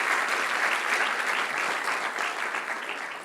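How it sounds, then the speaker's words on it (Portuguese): Steady, full applause from a church congregation, dense and even throughout, slightly distant and softening a little toward the end. "Você pode dar uma salva de palmas a Jesus por esse texto lindo?"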